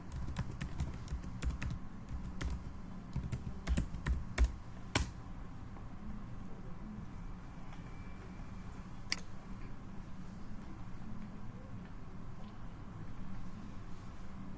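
A password being typed on a computer keyboard: a quick burst of close key clicks in the first few seconds, then mostly quiet room hum with a stray click later.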